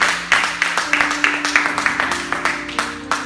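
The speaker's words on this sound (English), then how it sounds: "clap your hands and give God praise." A congregation at a worship service claps in praise, producing steady rhythmic hand claps about three per second, close and lively, with a faint background murmur.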